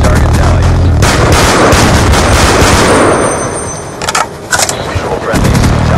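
Rapid bursts of aircraft cannon fire strike a target in a military combat game, a loud, dense, sustained roar of gunfire that breaks off briefly near the end before resuming.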